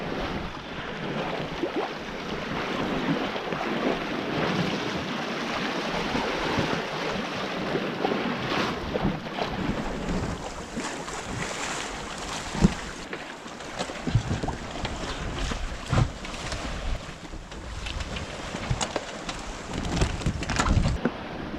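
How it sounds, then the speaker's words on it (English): Wind rushing and waves washing steadily around a small sailboat running dead downwind offshore between the Canaries and Cape Verde, with irregular louder splashes against the hull and no voices. "The wind has picked up a bit now and I'm sailing wing on wing, dead downwind."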